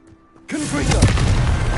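A Confringo blasting spell explodes in Hogwarts Legacy, a sudden loud boom that follows a brief quiet moment and then rolls into a sustained rumbling roar.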